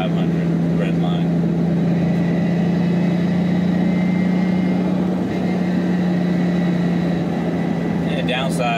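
BMW E30 325iX turbo with all-wheel drive and a five-speed gearbox cruising at highway speed: a steady, loud, low engine drone with road noise, unchanging throughout.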